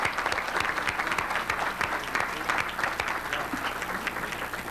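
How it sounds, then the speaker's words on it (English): Audience applause at a business and sustainability lecture, a steady dense round of clapping from a sizable crowd, fairly close and continuous for several seconds. "We might have a round of applause for..."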